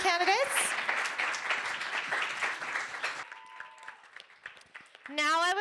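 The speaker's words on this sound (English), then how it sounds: "Let's give it one more round of applause for our vice presidential candidates." Audience applause at a student government presidential debate, honoring the vice presidential candidates, a dense clatter of claps that thins out midway as other sounds take over, with a loud voice breaking in near the end.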